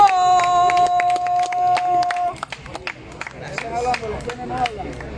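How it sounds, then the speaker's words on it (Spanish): A crowd at a rap battle claps and cheers in sharp, scattered bursts that grow into looser applause with shouting voices, after a sustained tone cuts off. "¡Aplausos para este batallo!"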